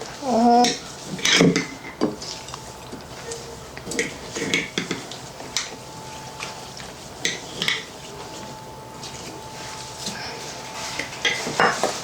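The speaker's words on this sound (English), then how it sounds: "we need to make sure all that butter is mixed in really well" A spoon works butter into cinnamon roll dough in a bowl, making scattered scrapes, taps and knocks against the bowl, louder at first and then lighter and more irregular, with brief faint voices in the background.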